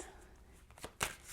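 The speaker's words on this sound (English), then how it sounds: "One more shuffle." A deck of tarot cards being shuffled by hand: a few soft, quick papery riffles and flutters, faint and close, ending in one slightly sharper burst, with no talking.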